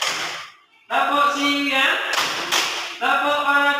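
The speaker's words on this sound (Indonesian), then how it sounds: "Sekali lagi kita tepuk siang" A class of students claps in rhythmic bursts during a classroom clapping game, the claps coming in quick sets with a brief pause early on, mixed with chanting voices.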